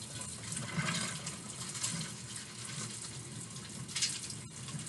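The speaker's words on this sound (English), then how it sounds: "I'm going to wash my hands." Hands being washed under a running tap in a home kitchen, a steady rushing splash of water with slight surges, close and continuous without speech.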